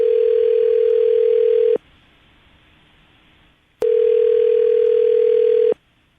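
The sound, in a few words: telephone dial tone while dialing a phone number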